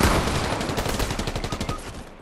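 Rapid SMG gunfire in an online shooter video game, a dense sustained burst of fast shots lasting about two seconds, loud and close with no pauses.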